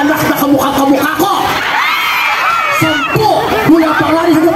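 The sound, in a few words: festival crowd shouting and cheering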